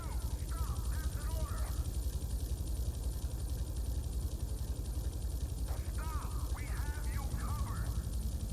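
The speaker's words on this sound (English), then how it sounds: "That's a police helicopter." A police helicopter in Grand Theft Auto 3 Definitive Edition gives a steady, continuous rotor and engine drone throughout, while a voice talks over it in short bursts near the start and end.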